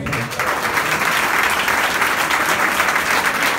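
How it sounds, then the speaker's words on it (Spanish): Loud, sustained applause from a press conference crowd, dense clapping that holds steady throughout. "vamos a despedirnos con, un aplauso bien grande"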